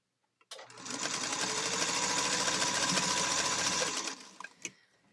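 A sewing machine stitching fabric runs in one continuous, loud mechanical whir for several seconds, then stops with a few small clicks as it winds down.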